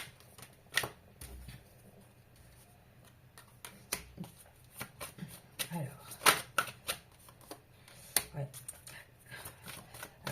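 Tarot cards are shuffled by hand in short bursts of crisp riffling and flicking, with quiet pauses between them, while a person talks softly under the card sounds.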